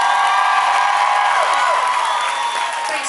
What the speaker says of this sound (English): Would you please give a huge round of applause for the very lovely and talented John